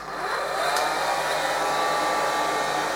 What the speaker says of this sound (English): And we're going to use a hairdryer